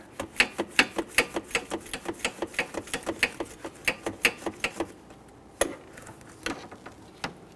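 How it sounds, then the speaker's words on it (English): A ratchet clicks in a rapid, steady run while spinning out the idler pulley bolt on a 2006-2010 Hummer H3 3.7L engine. Close and fairly loud, the clicking then slows to a few scattered ticks. "you can reach down and spin that bolt out"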